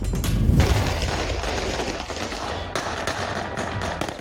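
Fireworks and gunshots fired into the air at a funeral send-off, a heavy boom at the start followed by a dense, continuous crackle of bangs heard from some distance.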